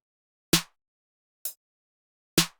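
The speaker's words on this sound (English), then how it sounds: "And when we put that clap with the snare, it sounds like this." Three sharp percussive hits spaced about a second apart, each a snare layered with a clap for a bright, punchy crack in a trap beat, heard alone with nothing else playing.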